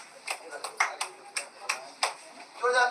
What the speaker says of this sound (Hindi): एक बार जोरदार ताली बजाइए।